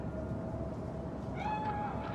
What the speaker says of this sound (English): you'll also see a cat in a construction site during the quest Gimme Danger